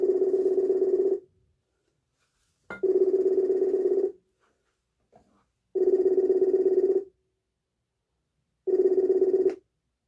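A telephone rings four times in long, evenly spaced electronic bursts, each about a second long and separated by silence, loud and close.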